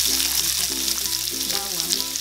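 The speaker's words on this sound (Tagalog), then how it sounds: "Ngayon po ay igigisa na natin ang sibuyas" Onion sautéing in cooking oil in a frying pan gives a steady, close hiss of frying, along with faint tonal hum underneath.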